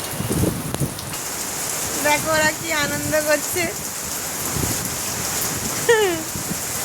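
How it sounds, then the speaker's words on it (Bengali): Heavy rain pours down in a steady, dense hiss close by, while a person talks and other voices call out over the downpour. "প্রচণ্ড বৃষ্টি শুরু হয়ে গেছে"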